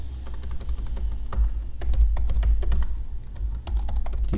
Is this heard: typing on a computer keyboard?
yes